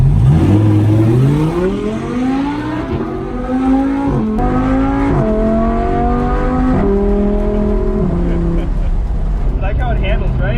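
An Audi R8 V10 revs hard from close range, its engine note climbing through several rising sweeps with gear changes, followed by crackling exhaust pops near the end while occupants talk inside the car.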